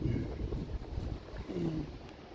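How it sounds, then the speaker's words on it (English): Wind gusts outdoors and buffets the microphone, making a continuous low rumbling roar that swells and dips, with faint brief hums beneath it. "The wind's blowing."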